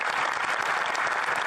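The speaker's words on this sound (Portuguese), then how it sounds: "Zelensky foi aplaudido de pé" Members of the Canadian parliament give Zelensky a standing ovation, a dense, steady wash of applause from a large chamber with no break.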